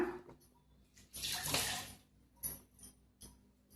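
Clothes are washed by hand under running water, with bursts of splashing and pouring, a strong gush in the middle and short wet slaps after it. No one speaks.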